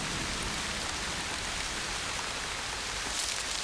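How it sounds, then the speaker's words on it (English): Gentle pre-monsoon rain falls steadily at daybreak, a soft, even hiss of drops on surfaces with no break or swell across the few seconds. "A gentle rain is an encouraging sign."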